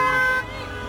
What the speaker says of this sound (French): À Alger, l'annonce a été accueillie par un concert de klaxons